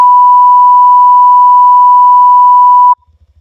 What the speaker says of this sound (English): search for the beep sound